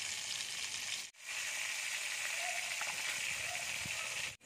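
Adobong kangkong sautéing in a hot pan, a steady loud sizzle and crackle that cuts out briefly twice, with faint clinks of utensils underneath.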